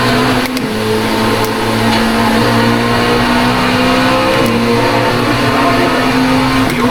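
LMP2 prototype race car engine at Spa in the iRacing sim, heard from the driver's seat as a loud, sustained high-pitched engine drone with shifting revs and gear changes through a lap, with no voices.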